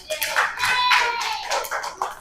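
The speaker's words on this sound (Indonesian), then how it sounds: "Beri tepuk tangan untuk kelompok 3" A classroom group claps for group 3 in a short, loose burst of hand claps, fairly close, with children's voices calling out over it.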